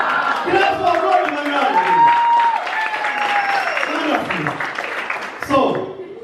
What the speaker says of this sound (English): Clap for God